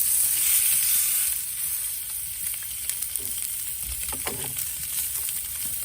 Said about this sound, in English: Now I'm going to put the tri-tip on the egg with a nice sear here.